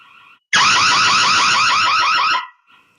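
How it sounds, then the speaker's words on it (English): A Noorio security camera's loud, piercing electronic alarm siren wails with a rapid warbling pulse for about two seconds, then cuts off abruptly. "Let's sound the alarm."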